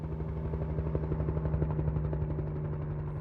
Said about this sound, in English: Choppers aren't cheap to fly.